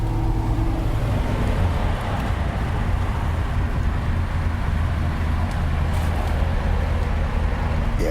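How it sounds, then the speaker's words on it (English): An old Allegro car in its original period colour drives alongside in road traffic. A loud, steady engine and tyre rumble fills the scene from start to finish, with no talking. "You can actually hear the car,"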